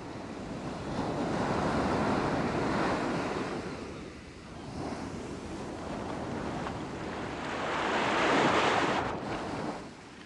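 Mediterranean Sea surf rolls in, with broad swelling waves rising and fading over steady wind and microphone buffeting, no voices present.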